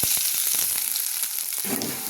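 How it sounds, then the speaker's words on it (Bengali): Onion, garlic, dried red chillies and panch phoron spice frying in a pan, a close crackling sizzle with sharp spattering pops across the whole moment. "দুটো শুকনো লঙ্কা, একটু পাঁচফোড়ন, আর একটা ছোট পেঁয়াজ আর একটু রসুন"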